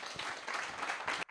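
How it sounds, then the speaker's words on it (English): Audience applause for a panel at an EdTech Mondays event in Ghana, a short burst of steady clapping from a crowd that cuts off abruptly. "Round of applause for the panel."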